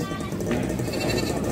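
A goat bleats once in a short, wavering call, close by, amid crowded livestock noise and people talking nearby at a livestock market.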